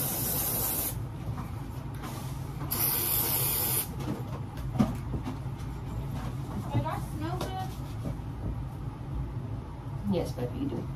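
Two long hissing bursts of a perfume spray bottle, the Good Girl fragrance, each lasting about a second, close to the mic, with people talking and moving around before and after.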